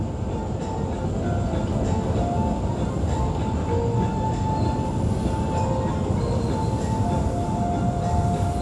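A KRL JR 205 electric commuter train bound for Bogor rumbles steadily close by, a continuous heavy rolling roar with faint metallic clinks and tones riding on top.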